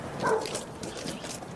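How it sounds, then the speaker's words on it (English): A dog barks and yips in an audio drama, a short close burst of barking followed by softer whimpering sounds at moderate volume. "Don't bark, Lucky."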